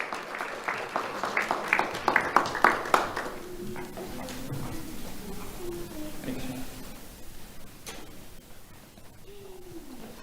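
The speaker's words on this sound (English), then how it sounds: "Let's have a round of applause for Giovanni Carmona." An audience at a sheriff's office awards ceremony claps for a 7th-grade award recipient, a brief burst of applause in the opening seconds that fades into quieter room noise and faint murmuring.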